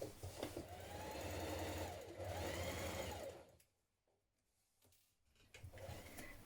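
Sewing machine running a seam on pyjama bottoms at a 1.5 centimetre allowance, a steady close whir for over three seconds, then a brief pause before the stitching resumes.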